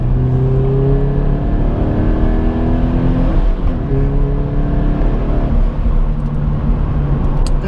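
Subaru BRZ engine pulling hard in third gear on a highway, a loud, steady drone rising in pitch through the revs with a brief dip at a shift midway, heard from inside the cabin with no talking.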